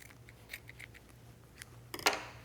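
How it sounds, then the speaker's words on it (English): Scissors trimming excess fabric and seam allowance from a vintage jacket, a series of quiet close snips ending in a louder final cut. "now all I'm going to do is trim off that excess fabric from the jacket"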